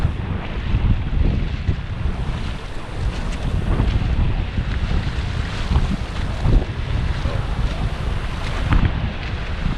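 Strong wind at Lucas Bay, St. Maarten buffets the microphone in a constant loud roar, with a broad rushing sound like surf and no pauses; no one speaks.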